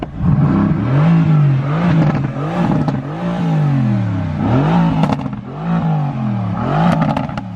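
Mercedes-AMG GT S with a 4-liter twin-turbo V8 in race mode, revving loudly and repeatedly, its deep engine note rising and falling in several surging waves with crackling overrun, alone without talk.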